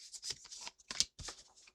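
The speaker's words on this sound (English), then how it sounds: "Shuffling in these two cards." Tarot cards are shuffled close up, giving a run of soft, papery riffling and rubbing bursts with brief pauses between them and no voices.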